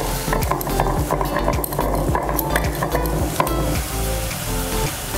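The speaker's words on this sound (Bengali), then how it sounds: "এবার মশলাটাকে ভালো করে কষিয়ে নেবো।" A spoon scrapes and stirs a spice masala of coriander, cumin, salt and chilli powder in a hot pan for egg korma, with steady sizzling, rhythmic clinks against the metal and no talk.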